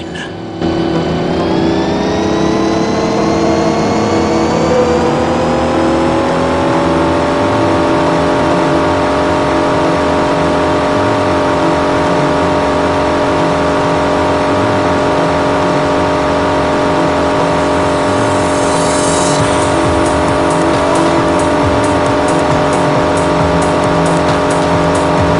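Racing car engines in a Knight Rider game rev hard and climb steadily in pitch, then hold a loud, continuous drone for the rest of the stretch.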